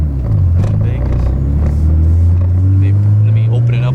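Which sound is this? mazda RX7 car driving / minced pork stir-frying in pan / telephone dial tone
mazda RX7 car driving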